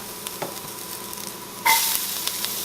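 Onions sizzle in a pan with light stirring, then a sudden louder hiss surges as rhubarb drops in for a strawberry rhubarb jam, the frying staying bright and close afterward with no talking.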